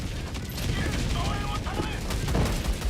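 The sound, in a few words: walking barrage artillery explosions in Helldivers 2 video game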